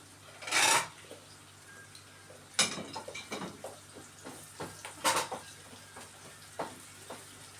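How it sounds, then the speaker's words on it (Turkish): Onions and tomato paste for kısır are sautéed in a pan, with a few sharp metallic scrapes and clinks from a spoon against the pan over a faint sizzle, close by and quiet. "Soğanla kavuruyorum."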